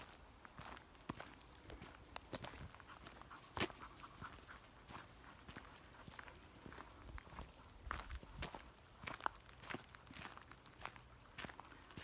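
Steady footsteps crunch along outdoors beside the River Tay at a walking pace, with occasional sharper scuffs and a low background hum.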